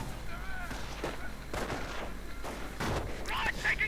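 Gunfire from a World War II strategy video game: scattered bursts and shots crack at intervals amid battle noise, with rifle fire trading back and forth, while a voice talks over the action.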